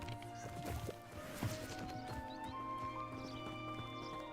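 Horse hooves clip-clopping in the video game Hogwarts Legacy, a steady trotting patter over game ambience and music, with an occasional whinny.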